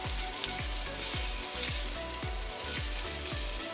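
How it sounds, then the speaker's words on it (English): Italian breakfast omelette sizzling steadily in a frying pan, a continuous close crackle with soft rhythmic low bumps from the pan, no talking. "Then we can finish cooking our omelette right the way through"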